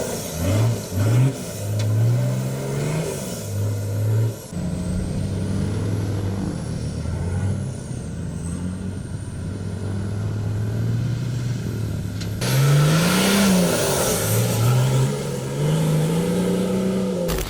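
A Nissan GQ Patrol ute, an old rust bucket rebuilt for off-road use, drives through mud, its engine rumbling steadily with rising and falling revs and a sharp surge near the end, loud and close without speech.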